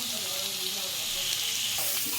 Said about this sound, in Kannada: ಇದರೊಳಗೆ ಹಸಿ ಬಟಾಣಿ ಹಾಕ್ಕೊಂಡು ಈ ಥರ ಫುಲ್ ಫ್ರೈ ಮಾಡ್ಕೋಬೇಕು.